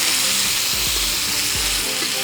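Pork seasoned with a sage, garlic and onion marinade searing in a hot pan, a loud steady sizzle with a few scraping stirs, close and continuous.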